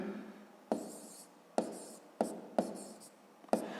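A pen or pencil writes out long division by hand on paper, giving a string of short, close scratchy strokes. Each stroke starts with a small tap and fades out, in an irregular rhythm, and the sound is quiet with no voices.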